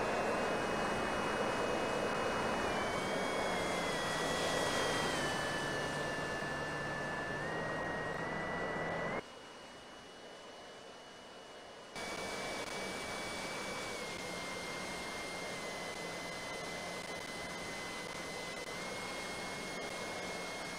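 Harrier jet engine in the RealFlight 9.5 flight simulator game, a steady loud whining roar whose pitch shifts slightly during vertical flight, cutting briefly quieter midway before returning to the same sustained drone.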